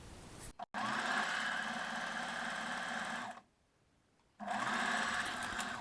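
A sewing machine runs a straight stitch joining the side seams of underwear at a 0.5 cm allowance, a steady close whirr that stops briefly near the start and again for about a second before resuming.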